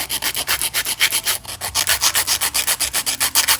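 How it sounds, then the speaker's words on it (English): A hand file rubs back and forth along the sides of a gel builder nail, a steady run of close, rhythmic rasping strokes, roughly four or five per second, with no voices. "take a hand file and just file the sides of the nail"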